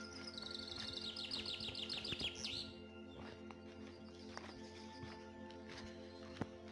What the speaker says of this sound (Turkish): Evet, çok güzel kuş sesleri var,